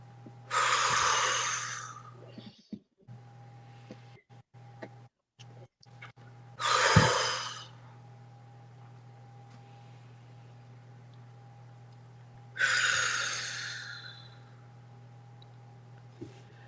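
Three deep breaths, each drawn in and released through an open mouth, arrive as long, loud, airy gusts about six seconds apart, with near silence and a faint steady hum between them.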